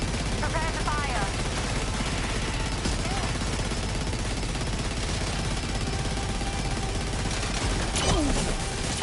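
Dense, continuous gunfire fills a combat scene in Death Stranding 2, overlapping shots and bursts layered under battle noise with brief voices calling out over it.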